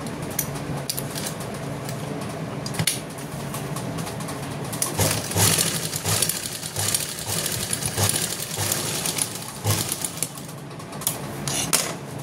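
A sewing machine runs continuously while stitching a coat collar, a busy rattling hum with irregular clicks and knocks, close by and moderately loud.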